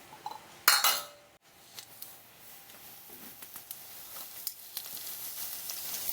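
Two garlic cloves are stir-fried in cooking oil in a pan on a burner. A sharp, loud clatter and hiss open the sound, followed by a steady, softer sizzle with occasional utensil clinks and no voices.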